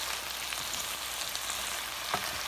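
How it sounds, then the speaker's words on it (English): Onions with red and green peppers fry over medium-high heat in olive oil, a steady close sizzle holding throughout with one brief stir or scrape near the end. "I add the first the olive oil, then the onions and the red and green peppers."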